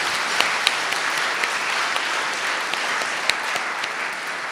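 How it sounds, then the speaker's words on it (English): A large audience at an awards ceremony at the Bangladesh High Commission in London applauds achieving students, producing a dense, even wash of clapping that holds at steady loudness throughout, with a few sharper individual claps standing out. "Big clap to that."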